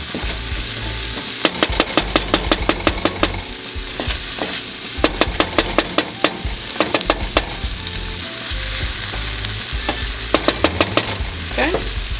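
Beef, onions and garlic sizzle steadily in a hot pan for beef stroganoff while a utensil stirs and scrapes in quick clustered strokes, with quieter stretches of plain frying between them.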